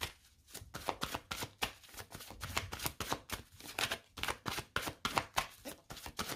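Tarot cards being shuffled, a quiet run of quick riffling flutters and soft slaps repeating in a steady rhythm, close by with no talk over it.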